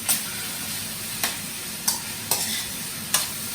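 Shrimp and veggie fried rice sizzles softly in a wok, a steady low frying hiss broken by several sharp scraping stirs of a utensil at irregular intervals, with no voices.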